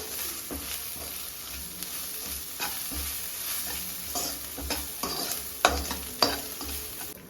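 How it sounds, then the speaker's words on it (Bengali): Spice masala of cumin, turmeric and chilli powder with salt is stirred in a pan for prawn malai curry, a continuous low sizzle with regular scraping strokes and a couple of sharper knocks near the end. "এবারে মশলাটাকে আমি আবার নেড়ে নেব যাতে বসে না যায়"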